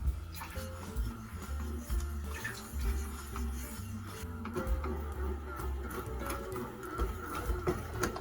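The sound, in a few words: Panasonic home bakery machine mixing bread dough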